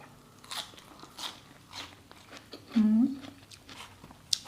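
Crunchy bites and chewing of crispy fried pork belly eaten with sticky rice and eggplant soup, several close crackling crunches spaced apart with one louder bite near the middle, plus soft mouth sounds.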